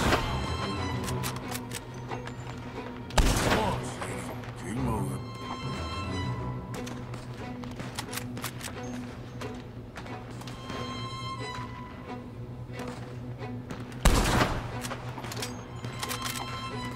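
Two sharp, loud gunshots crack out in Red Dead Redemption 2, far apart from each other, over a steady bed of music and ongoing talk.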